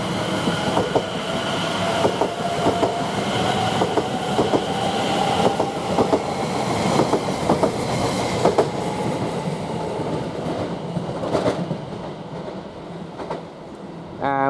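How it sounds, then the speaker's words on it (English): Greater Anglia train departing Shenfield station towards London Liverpool Street, a loud continuous rumble with rhythmic clickety-clack of wheels over rail joints and brief squeals, passing close for the whole stretch. "Now we've got the Great Wrangler, which is from Clacton-on-Sea towards London Liverpool, 1408. It's just now departing."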